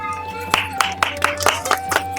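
Several people clap by hand at a village wedding ceremony, about eight quick claps in an uneven rhythm close by, over a low background hum.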